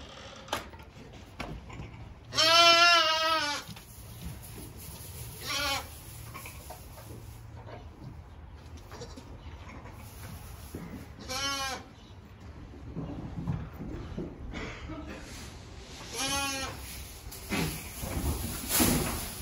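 Sheep bleating in a barn during shearing, several loud wavering bleats spaced several seconds apart, with clatter of gates and handling noises between them and no talk.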